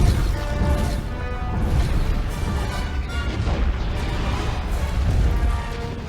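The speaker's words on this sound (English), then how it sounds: "It's a really good explosion." Movie explosion from Star Wars: The Rise of Skywalker, a loud, sustained booming blast with heavy low rumble and crashing debris that stays dense and roaring for several seconds.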